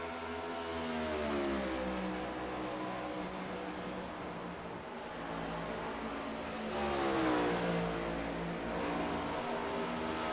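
Race cars in a PC Cup Series racing game at Dover drone steadily at high revs, engine pitch gently rising and falling as the pack circulates, with one car's whine swelling closer near the end.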